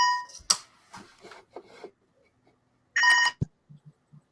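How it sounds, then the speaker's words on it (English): A phone rings with an incoming call during a tabletop game session, a short burst of bright electronic ringing after some talk, followed by a few faint low taps. "Something's ringing."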